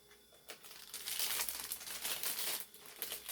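Small plastic bags crinkle and rustle up close while being handled for rooting rose cuttings, a dense, crackly crumpling that rises after a quiet start and continues in irregular bursts.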